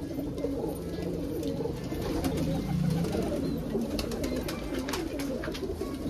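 A flock of border pigeons coos steadily nearby, low throaty calls overlapping and rolling on without pause, with faint background noise.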